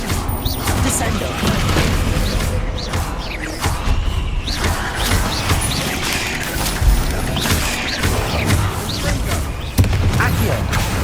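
Spells slamming objects down in the Hogwarts Legacy game on PS5, heard as repeated heavy booms and crashes with creaking, mechanical clatter, loud and continuous over a dense bed of game sound, with voices mixed in.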